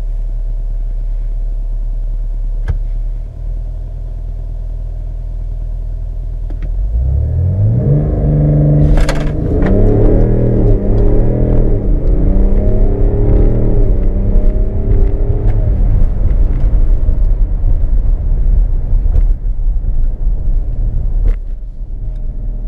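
A 2019 BMW X5 accelerates hard from a standstill toward 100 km/h: after a steady low idle rumble, the engine note swells loudly and climbs through rising revs with a gear change, then holds a strong, sustained roar with no talking.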